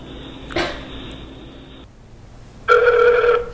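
A loud electronic phone ring on an outgoing call to Patrick Walsh, a single burst of warbling tone after a hiss and a brief cough-like noise, with no talking.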